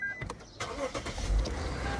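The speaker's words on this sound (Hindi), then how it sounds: "कचरा फेंकने के बाद गाड़ी स्टार्ट करते हैं" A Toyota Innova engine starts up in hot weather, with a click followed by a cranking rumble that settles into a steady idle, heard nearby and moderately quiet.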